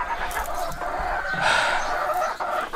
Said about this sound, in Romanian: Și o găină era să moară